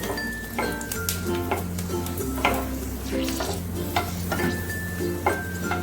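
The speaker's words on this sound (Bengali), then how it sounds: "এবার আমি প্রথমে যে দুটো শুকনো লঙ্কা সেটাকে দিয়ে দিলাম আগে" Two dried red chillies frying in hot oil for paneer rezala, a loud close sizzle with repeated metallic clinks and scrapes of a spoon stirring against the pan.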